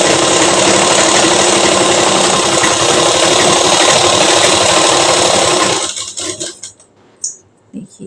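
An electric sewing machine runs a long, steady, loud stitch along the side seam of a dark kurti, whirring continuously for about six seconds before slowing and stopping, followed by a few faint clicks.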